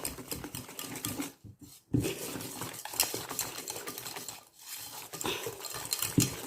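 Gluten-free dessert batter is stirred in a bowl, a close, busy run of scraping and clinking from the utensil against the bowl, with two brief pauses.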